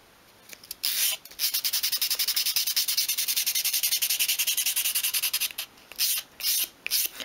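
Close, rapid back-and-forth strokes of fine 500-grit sandpaper on a small wooden 1/12 scale miniature bed, a steady rasping rhythm of many quick passes, with a few shorter bursts near the end.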